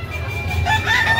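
A rooster crows at a busy chicken market in Carbon, Cebu, a loud nearby call rising over a dense background of other fowl and crowd noise.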